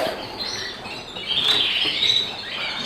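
Young Yorkshire canary chicks, 26 days old, chirp and squeak softly in their nest over a hissy room background, thin high calls overlapping in a faint, continuous twitter.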